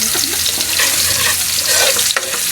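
Loud, continuous sizzling of ginger and onion frying in a hot pan, with occasional stirring clatter close by.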